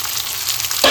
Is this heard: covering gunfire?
no